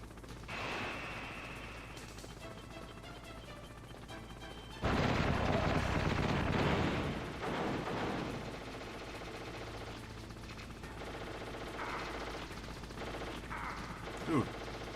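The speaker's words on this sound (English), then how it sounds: "as he starts firing rockets" Rockets firing in the Metal Gear Solid video game, a dense run of booming, crackling blasts that jumps to a louder burst midway before settling into steady mechanical rumble with a few sharp hits near the end.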